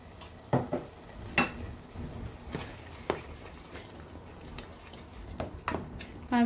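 Onion, tomato and berbere paste cook over low heat in a pan, a soft sizzle under repeated scraping strokes of a spoon stirring the thick mixture at close range.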